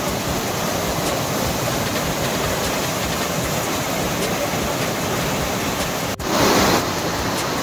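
Loud, constant rush of a mountain waterfall roaring nearby over large rocks, a dense unbroken wash of noise with no voices.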